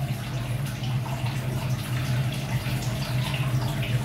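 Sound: Pro Combi 85HE boiler running hot water

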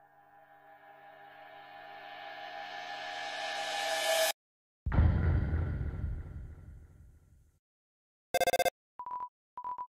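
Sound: phone call ringing in Undertale video game

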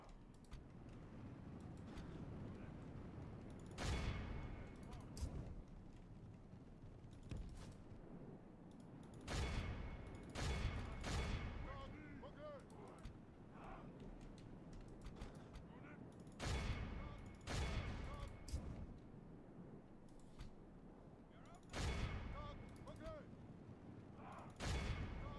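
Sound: catapults firing in a video game (Total War, TESTW)

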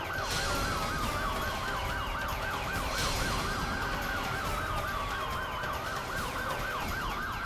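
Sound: police car siren

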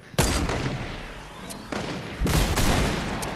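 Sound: gunfire in a PS5 video game

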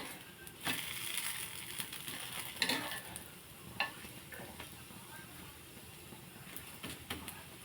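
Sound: plain dosa cooking on a hot pan

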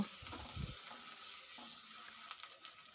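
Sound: onion and garlic paste frying in a pan

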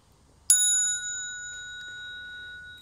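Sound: a bell being rung

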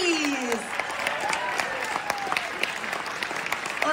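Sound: audience standing ovation for John Cleese at comic con

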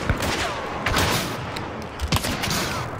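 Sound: gunfire in a video game

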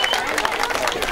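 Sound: applause for the wedding couple

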